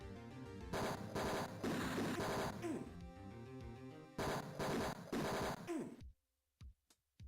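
Rapid bursts of gunfire from a retro 1989-era DOS video game, loud repeated volleys in two long stretches, then a few isolated single shots after a brief silence.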